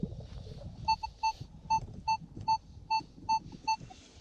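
A metal detector sounds a repeated beeping tone while sweeping a field, about a dozen short, evenly spaced pulses over a low rustling background.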